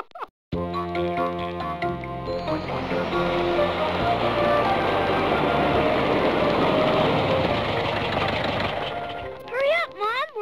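A train sound effect from the PC game Mercer Mayer's Little Critter: Just Me and My Mom, a loud, dense rumble with musical tones that swells and holds for about ten seconds, then fades as rising whistle-like sweeps close it out.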